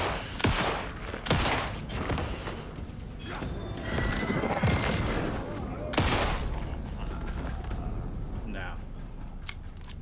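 Gunshots in the video game Alan Wake 2, several sharp loud bangs scattered across the scene with mechanical clicks and clatter between them, while people talk throughout.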